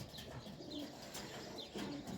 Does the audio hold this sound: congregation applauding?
no